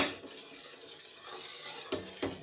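A warm homemade laundry mixture of melted soap flakes and baking soda is stirred, giving a brief, soft continuous swishing with two sharp clicks of the utensil near the end.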